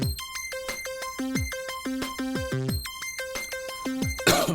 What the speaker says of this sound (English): the signal is passing through the arpeggiator from this single note, and it sounds like this